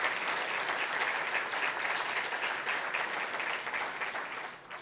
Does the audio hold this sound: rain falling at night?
no